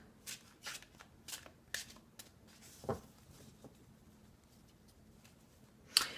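Playing cards shuffled and riffled by hand during a tarot reading, a series of crisp flicking bursts at a quiet level with pauses between them, ending in a sharper snap, no talking.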